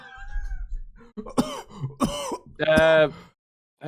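Several short throaty coughs and throat-clearing bursts, close and fairly loud, with a brief pause between each, ending in one longer harsh cough.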